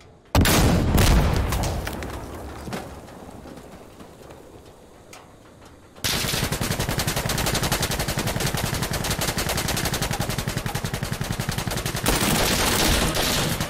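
Dense automatic-weapon fire from Insurgency: Sandstorm, a close firefight at a Taliban compound: a loud opening burst with scattered shots, then a sustained rapid rattle of rounds running to the end without pause.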